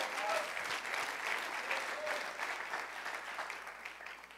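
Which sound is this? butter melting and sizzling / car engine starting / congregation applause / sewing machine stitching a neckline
congregation applause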